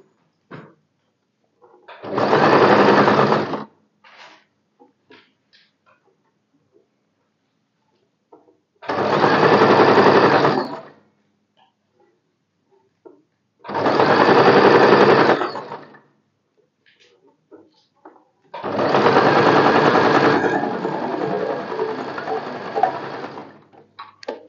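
A sewing machine stitches tucks on a blouse in four loud, close bursts of fast whirring, each a few seconds long and separated by quiet pauses with faint handling clicks.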